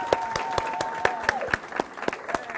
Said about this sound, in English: Give him a hand on that.